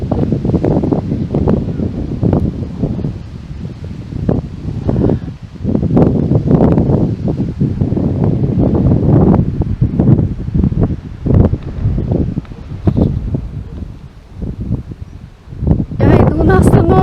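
Strong wind gusts buffet the microphone in bursts outdoors near a bus stop in a Komi village, loud and roaring, while someone speaks over it intermittently.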